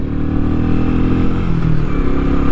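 A Royal Enfield Meteor single-cylinder motorcycle runs continuously with a loud, close, steady engine drone and a low thumping tone, with no speech.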